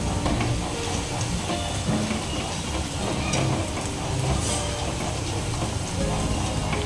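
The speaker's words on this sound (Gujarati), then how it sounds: "તો મેં 3 મિનિટ માટે ભજીયાને થવા દીધા છે, જેથી કે બટેટા છે એટલે સરસ એવું ચરી જાય." Potato bhajiya fritters deep-frying in hot oil, a loud, dense, continuous sizzle and crackle heard close up, steady throughout with no talk.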